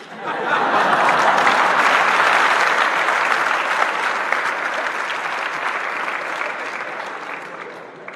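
An audience claps loudly and continuously, a dense swell of applause that rises quickly and slowly fades, with a few chuckles mixed in.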